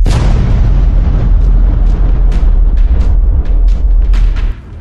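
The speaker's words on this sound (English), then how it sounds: "Super explosion!" A cartoon super explosion from a Superthings mutant battle bursts as one loud, sustained booming roar that rumbles steadily for several seconds before cutting off abruptly.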